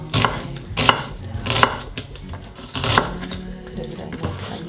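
Onion being chopped with a knife on a cutting board, a handful of sharp, close chopping knocks with short pauses between them, while a quiet background hum continues underneath.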